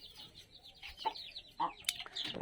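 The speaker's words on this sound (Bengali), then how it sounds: "আমাদের ডিমের মুরগি ফাউমি" Fayoumi hens cluck nearby in short, uneven bursts, with a few sharper squawks rising among the soft calls.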